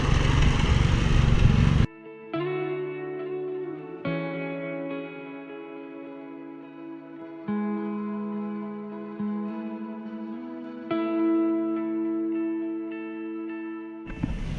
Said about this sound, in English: they're doing the lawn mowing at the moment